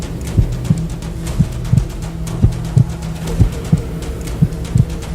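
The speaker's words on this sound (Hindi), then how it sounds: "दिल की धड़कन भी बढ़ जाती है" Racing heartbeat sound effect: steady, quick double thumps, deep and loud, repeating about once a second with a low hum underneath and no voices.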